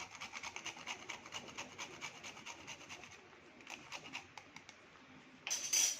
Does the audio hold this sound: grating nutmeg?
yes